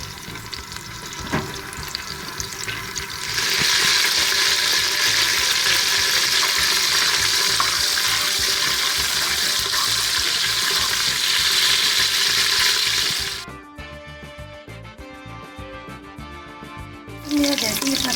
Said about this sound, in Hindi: बर्तन हमारा गर्म हो गया, इसमें ऑयल डालेंगे और इसी के साथ हम इसमें लहसुन डालेंगे जो हमने काट के रखा था